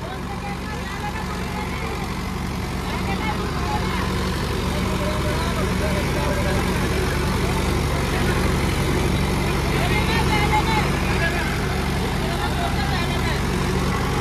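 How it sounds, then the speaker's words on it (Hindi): A Sonalika 745 tractor engine labours under heavy load during a tractor pulling contest against a Mahindra. The engine gives a loud, dense, continuous roar that holds steady for the whole stretch, amid outdoor background noise. "स्ट्रेस फ्री ट्रैक्टर चल रहा 745 अब इसे जो है ट्रैक्टर जो है इतना लोड दे रहा है ट्रैक्टर को बहुत ज्यादा"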